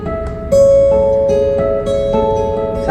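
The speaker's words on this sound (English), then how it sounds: "what that technique does is it alternates between doing a harmonic and plucking a note." On guitar, chiming harmonics alternate with plucked notes, each attack ringing into the next and leaving a bright, sustained shimmer. The notes are close and clear, with no voices.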